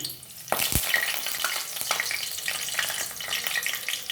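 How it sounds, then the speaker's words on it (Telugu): Spices tempering in a generous amount of hot oil crackle with a sharp sizzle that starts abruptly and keeps hissing with scattered pops and light stirring, close and steady throughout. "పోపు చేసేసుకుందాం"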